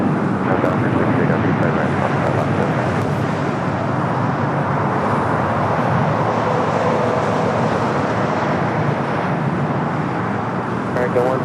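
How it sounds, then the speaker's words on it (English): A Frontier Airlines jet in Scarlet Tanager livery, arriving from Las Vegas, rolls along the taxiway at LAX, giving a loud, steady broadband engine roar that holds at an even level throughout. "It's Frontier's Scarlet, the Tangier livery coming up from Vegas"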